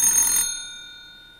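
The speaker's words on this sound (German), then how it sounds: "Das Telefon klingelt." A toy telephone rings in a Playmobil dollhouse scene, one bright electronic ring burst that cuts off and leaves a long fading tonal decay, with no talking.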